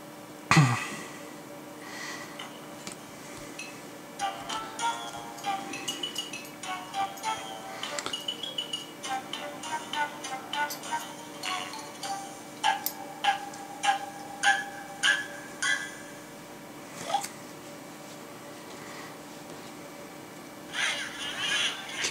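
Angry Birds on a Nook Color tablet running Cyanogenmod 7 plays a jaunty game soundtrack with repeated clicky, tapping effects and squawks, the sharp hits growing more regular in the second half.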